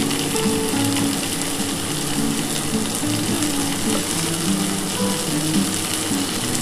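Yardlong bean and potato curry frying in a pan with salt, turmeric and spices, giving a steady, even sizzle throughout with no pauses.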